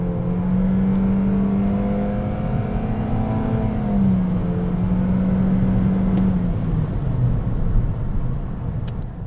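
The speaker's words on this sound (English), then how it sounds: "that was some very strong acceleration right there" 2020 Toyota Corolla XSE pulling hard under acceleration, the engine note climbing steadily then easing and climbing again, with a constant low rumble of road and cabin noise, close and uninterrupted.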